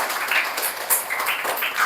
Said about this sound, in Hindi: जोरदार तालियां बजाते रहिए।